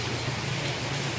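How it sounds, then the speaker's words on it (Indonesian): Rain falls as a steady, dense hiss with a low rumbling undertone, continuous and even throughout, with no voices. "sekarang malahan hujan"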